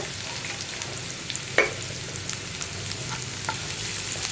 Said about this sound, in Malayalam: ഇനി സവോള ഒന്ന് ലൈറ്റ് ബ്രൗൺ ഷെയ്ഡായി വരുന്നത് വരെ ഇളക്കി കൊടുക്കുക.